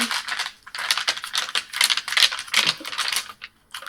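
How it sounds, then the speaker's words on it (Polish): Crisp paper sheets covered in calligraphy lettering rustle and crackle up close in quick irregular bursts, handled and flexed with short pauses between, no voices. "jak te litery pięknie słychać na tych kartkach. Puste kartki nie wydają takiego dźwięku, prawda?"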